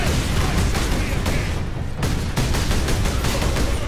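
Incoming gunfire in the Warhammer 40,000 Space Marine video game: rapid, dense bursts of shots and impacts crackle loudly and continuously, with a brief lull midway before the volleys resume.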